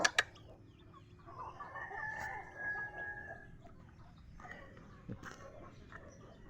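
Chickens and newly hatched chicks in a dim coop on a farm with fruit trees, giving clucks and a crow-like call, close and moderately loud over a steady background hum.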